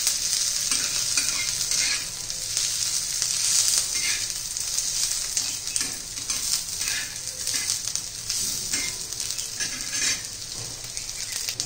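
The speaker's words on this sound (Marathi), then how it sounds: "चांगलं परतून घेऊया" Onion, garlic and green chillies sizzle steadily in a pan while being stirred, a close, continuous frying hiss with soft scraping, no talk; the dish is a raw mango chutney.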